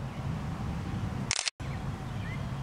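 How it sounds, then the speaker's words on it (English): A single mechanical shutter click from a Canon PowerShot SX60HS bridge camera taking a close-up macro shot, a short crisp snap standing out over a low steady background hum. "Hold down my shutter button, pull back a little bit to focus on the eyes,"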